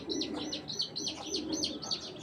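Chocolate-colored racing pigeons coo close by in a quick, repeated series of rolling calls with bright chirpy overtones, several pulses in rhythm and no talk.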